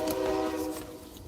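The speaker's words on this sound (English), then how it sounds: "Sorry about the train." Train passing with a sustained horn blast that sounds steady and fairly close, then slowly fades.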